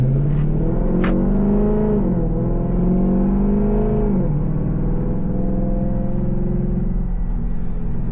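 Tuned Jeep 5.7 V8 accelerating in sport mode, a loud close-up engine drone whose pitch climbs through successive gear shifts, dropping between them, then settling into a steady cruise.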